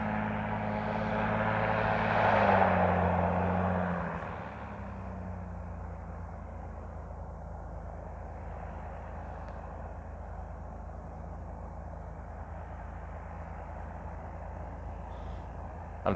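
An airplane at Wyoming Valley Airport accelerates, its engine roar swelling and peaking early before settling into a steady, more distant drone.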